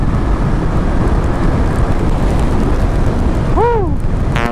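Heavy rain pours steadily onto a small hut in the Philippine countryside, a dense broadband hiss with a brief whistling sweep near the end.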